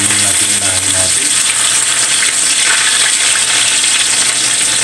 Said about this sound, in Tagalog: Gigisahin muna natin yung luya natin